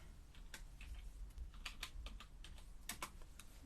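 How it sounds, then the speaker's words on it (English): Fingers type on a computer keyboard in a quiet room, producing an irregular run of soft, close key clicks with short pauses between bursts. "Let me type the word vellum in and have a look."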